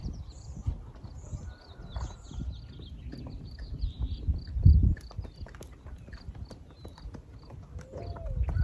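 Hooves of a Rocky Mountain Horse clip-clop steadily in its four-beat rocky gait, moderately close on the ground, with birds faintly audible in the background.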